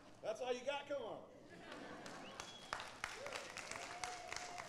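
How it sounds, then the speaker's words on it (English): A church congregation breaks into applause after a voice speaks. The clapping is a scattered, crackling patter that continues under the talk to the end. "Y'all show him a round of applause while I drink this."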